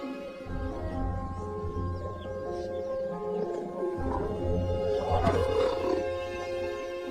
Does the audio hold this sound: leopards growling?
yes